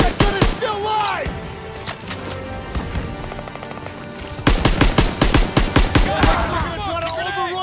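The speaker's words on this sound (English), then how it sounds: "Come on, they need cover fire! Suppressive fire! Keep firing!" Suppressive gunfire in the World War II shooter Call of Duty: WW2, with dense, rapid, overlapping rifle and machine-gun shots in loud bursts, close and continuous, mixed with shouting voices.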